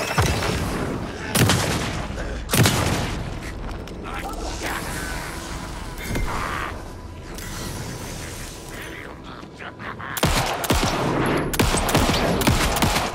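Gunfire in the survival horror game Alan Wake 2, a few sharp shots standing out over mechanical clanks, creaks and a steady game soundscape, with scattered impacts spread across the scene.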